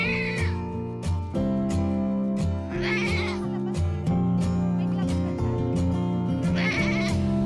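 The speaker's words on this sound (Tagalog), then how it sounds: "Ang mga alagang kambing na nakapastol ay hinahatiran po ng tubig na kanilang maiinom." Pastured farm goats in a rural provincial setting bleat repeatedly over a dense musical background, their wavering calls rising and falling in short bursts, fairly close and clear.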